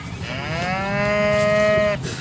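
A cow gives a single loud, drawn-out moo close by, rising and holding for over a second before stopping abruptly.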